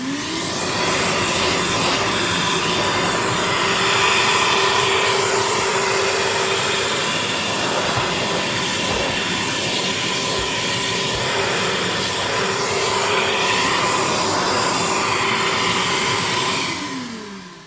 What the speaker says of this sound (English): and then you can vacuum.